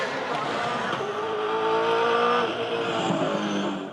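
V8 Supercar race car leaving the track at turn 9 during a 2010 championship race at Sydney Olympic Park, with loud, continuous engine roar and tire noise throughout, a commentator's voice running over it.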